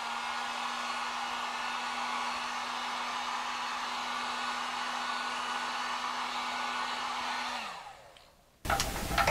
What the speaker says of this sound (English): so let's just do the heat gun for the fun of